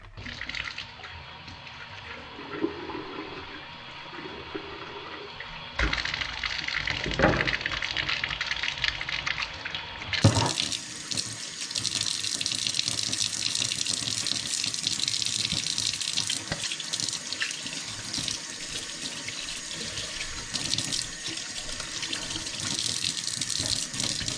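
Water runs from a tap over squid as it is washed out in a sink. A continuous close rushing splash shifts in tone and grows louder partway through as the flow or position changes, with no speech.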